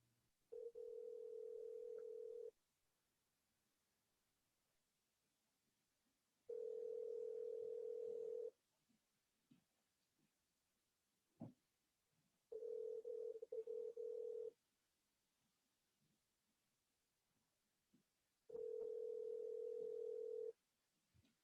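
An outgoing call to someone's home phone rings four times, each steady two-second tone separated by about four seconds of near silence, thin and faint as if heard over a telephone line.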